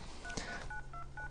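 An LG Rumor cell phone keypad beeps out a quick series of short dialing tones, one after another, fairly faint against a background hiss.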